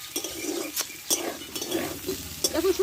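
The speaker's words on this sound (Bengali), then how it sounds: "এখন সব সবজিগুলো কষা হতে থাকুক" Mixed vegetables sautéing in a pan for a bitter vegetable curry, a low sizzle broken by repeated scraping strokes and clinks of a spatula stirring against the metal.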